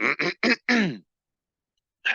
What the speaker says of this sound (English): Yes, I had a little cough and a little cold when I measured.